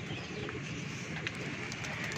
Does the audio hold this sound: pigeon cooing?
yes